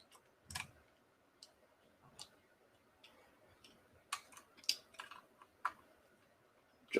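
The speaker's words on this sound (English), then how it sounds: "So we've loosened off those screws." Small screws are worked loose on a model locomotive body being opened for a DCC fit, giving sparse faint clicks and ticks at irregular intervals over a quiet background, with no talking.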